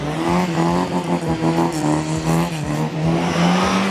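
A Metro Mini weighing under half a tonne with over 100 brake horsepower reverses and spins around near barriers at a show: loud, close engine droning and revving with rising and falling pitch, plus tire scrub as it turns.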